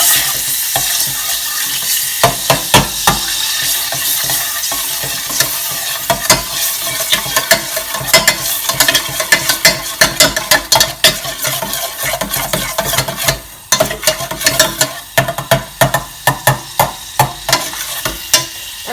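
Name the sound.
butter melting and sizzling in a hot pan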